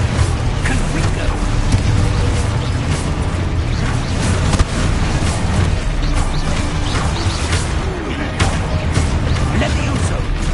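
Confringo blasting curse explosions in a Harry Potter video game, dense rumbling booms and crashing debris alongside mechanical clatter, continuous and loud, with a voice talking throughout.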